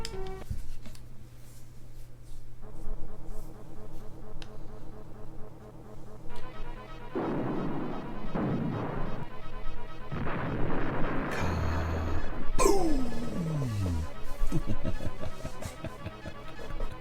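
Battleship destroyed in the SNES strategy game Super Conflict, with a rumbling artillery barrage and booming blasts over looping game music, ending in a descending crash-like effect.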